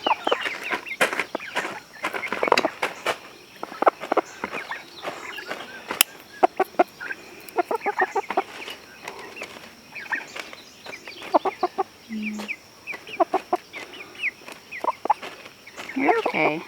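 Chickens cluck and squawk close by on a homestead, with frequent short calls in an irregular rhythm and a person speaking among them.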